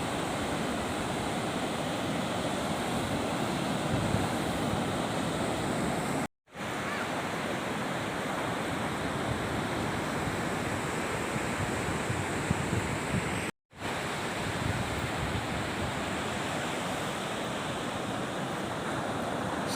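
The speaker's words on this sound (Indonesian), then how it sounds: "Jalan-jalan di pinggir laut." Steady roar of sea surf washing onto the shore at Maudil beach on Simeulue, Aceh, a continuous broadband wash with no distinct voices, briefly cut out twice.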